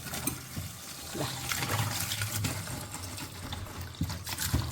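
Hibiscus flowers are rinsed in a bowl of water, with close splashing, sloshing and trickling that comes in small irregular bursts against a soft watery background.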